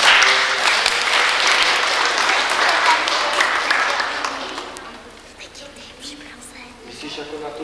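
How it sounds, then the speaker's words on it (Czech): An audience applauds at a small show, with dense, loud clapping that holds for about four seconds and then thins out and fades. A few scattered claps and faint voices carry on afterward. "že bychom jim mohli zatleskat"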